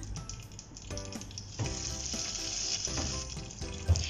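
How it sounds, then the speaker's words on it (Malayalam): Curry leaves dropped into hot oil with popping mustard seeds, a steady close sizzle and frying crackle with a few sharper spits, no voices. "കുറച്ച് കറിവേപ്പില ഇതിലേക്ക് ചേർത്ത് കൊടുക്കാം"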